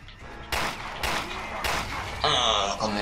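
Gunfire in Resident Evil Revelations 2, several sharp loud shots spaced about half a second apart, followed by a ringing, wavering tail, with in-game sound beneath.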